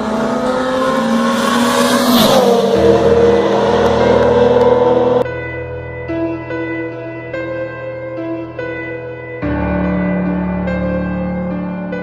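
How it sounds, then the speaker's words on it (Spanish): Cars in a clandestine street race roar past with loud revving engines, a sweeping pass, then sustained high-pitched engine drone with gear-like shifts in pitch, close and dominant throughout. "justo en el momento que se realizaba una carrera de autos, ¿cierto? Una carrera clandestina"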